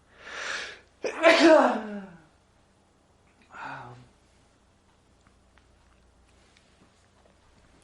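A sharp inhale builds into a single loud sneeze, followed by a brief exhale and then near quiet.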